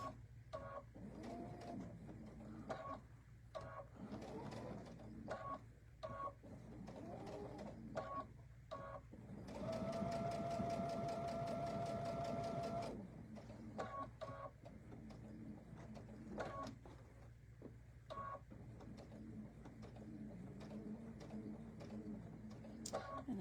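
A sewing machine runs in one steady burst of rapid stitching as it goes back over an earlier stitch line, a few seconds of whirring in the middle of quieter handling sounds.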